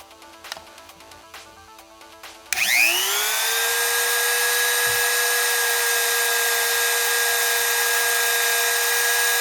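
A TECCPO TART13P cordless rotary tool spins up at its maximum setting after a few faint clicks, settling into a loud, steady, high-pitched whine that holds close and constant.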